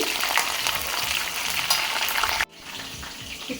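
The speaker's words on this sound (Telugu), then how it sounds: "ఈ తాలింపులు అయితే ఒకసారి ఇలా వేగాలండి" Tempering spices crackle and sizzle in hot oil for a fish curry. A loud, dense frying hiss runs close up, then suddenly drops to a quieter sizzle partway through, with no one speaking.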